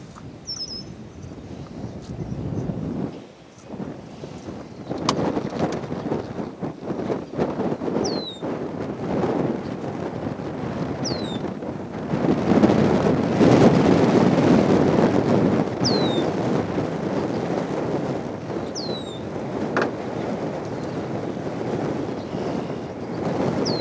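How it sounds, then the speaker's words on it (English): Strong wind blowing across a lake, buffeting the microphone with a steady roar that swells in gusts, with faint water movement and a few high, brief chirps in the background. "out on the main lake, the wind is really whipping"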